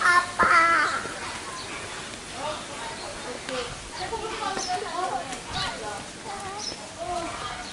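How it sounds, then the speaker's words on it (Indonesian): A crow-like bird caws repeatedly at Jatim Park 2 Batu Secret Zoo, with harsh calls spaced irregularly across several seconds, moderately near above a busy ambient background. "Burung ana sing tekan kene, Rin."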